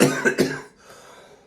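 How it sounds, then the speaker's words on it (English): Three quick, harsh coughs close to the microphone, followed by a brief quiet breathy pause. "pardonnez-moi as I cough."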